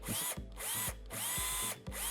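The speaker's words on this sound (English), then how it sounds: "I don't get the crazy hum from the drill like I do from the impact" A Bosch 12V Max brushed lithium-ion cordless drill whirs up close in three short bursts, spinning up and stopping in a stop-start rhythm.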